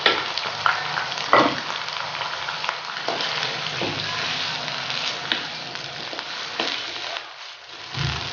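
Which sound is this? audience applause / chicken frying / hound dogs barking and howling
chicken frying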